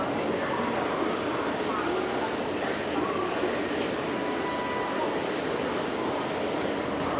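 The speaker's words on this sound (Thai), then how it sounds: "นี่ผมอยู่บนทางรถไฟ รถไฟฟ้านะครับ" Inside a Singapore electric train running along its rail line: a steady, even rumble and hum of the carriage that lasts throughout, with faint talk mixed into the constant noise.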